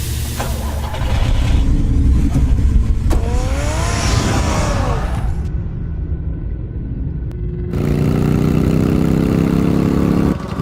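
Batman's car in the Batman Telltale Series video game rumbles loudly with a deep engine drone, rising revs and a whooshing pass, broken by a brief quieter gap before the engine roar returns.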